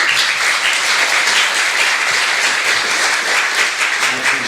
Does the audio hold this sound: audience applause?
yes